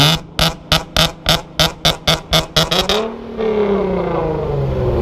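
A 2012 Nissan 370Z Nismo with a naturally aspirated engine and aftermarket intake revs loudly in a rapid series of about ten sharp blips, then holds a sustained high roar that eases slightly.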